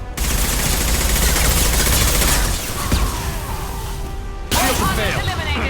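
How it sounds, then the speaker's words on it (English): A concussive shot fired in a video game sounds amid dense rapid gunfire and crashing impacts, with one sharp burst standing out mid-sequence, while a voice talks over the combat. "Firing concussive shot!"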